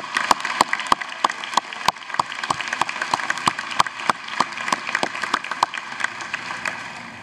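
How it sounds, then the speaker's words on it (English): Applause at a university first-year orientation convocation, a sparse scattering of individual claps rather than a dense ovation, continuing steadily throughout. "Let's give them a round of applause."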